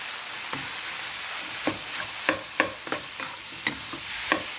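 Rice stir-fried in a pan with Chinese sausage, egg and salt, a steady sizzle broken by repeated scraping strokes of a spatula at an uneven rhythm, close and clear with no talking.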